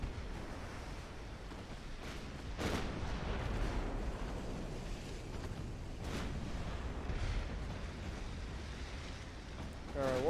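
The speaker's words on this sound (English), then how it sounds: "That was an 18-inch hit that just caused that one." Heavy 18-inch naval shells striking ships in the naval warfare game Ultimate Admiral Dreadnoughts, with deep rumbling booms and sharp impact bursts recurring over a continuous low roar of sea and battle.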